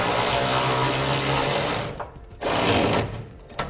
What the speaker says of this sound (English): we'll tighten that down now